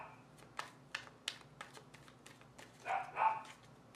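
Several dogs bark indoors in short bursts, a few sharp yaps spaced through the moment and a louder pair near the end, with faint tapping sounds in the background.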